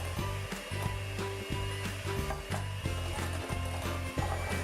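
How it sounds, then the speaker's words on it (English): Egg white being whisked with powdered sugar by an electric mixer, heard as a steady motor hum with a rhythmic, repeating scraping pulse from the beaters, close and continuous. "First, whisk an egg white."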